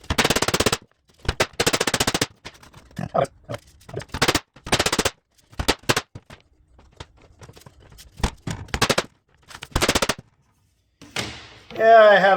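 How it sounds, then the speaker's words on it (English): A rubber mallet pounds on metal mesh laid over a plate in sharp, loud bursts of rapid blows separated by short pauses, ending with a voice. "I'm gonna be pounding on this with my rubber mallet"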